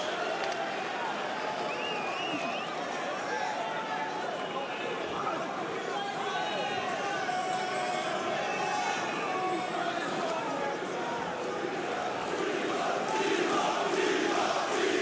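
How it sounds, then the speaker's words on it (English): A Parisian arena crowd at a Bellator MMA event roars and chatters in a continuous wash of cheering and shouting, building slightly louder toward the end. "Listen to this Parisian crowd getting behind Thibaut Guti."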